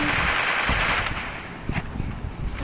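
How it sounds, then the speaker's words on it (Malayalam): An MP40 submachine gun with a King of the Cobra skin fires in a shooter video game, a loud, rapid automatic burst that tapers into a few trailing shots and clicks, heard up close. "നമ്മുടെ MP40 king of the cobra guys headshot അടിക്കാൻ പോവാണ് ഗൈസ്."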